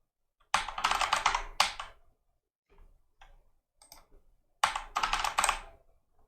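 A user password typed on a computer keyboard during a Fedora Linux installation: two quick, close bursts of key clicks about a second long, separated by a few sparse, faint taps.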